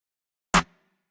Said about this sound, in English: The snare is layered with a clap, and that sounds like this.